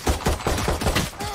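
Gunfire in the video game Valorant: a rapid string of sharp automatic shots at an even rhythm, loud and close, with no speech over it.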